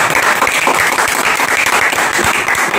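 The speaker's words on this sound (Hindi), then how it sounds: "इनके लिए फिर से एक ताली हो" Steady, loud applause from a room full of people at a mobile phone repair training institute, dense clapping sustained for about three seconds, given for a student.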